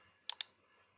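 Two quick, crisp computer mouse clicks in close succession, sharp and near in an otherwise quiet room.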